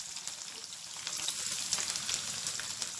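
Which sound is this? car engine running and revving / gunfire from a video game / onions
onions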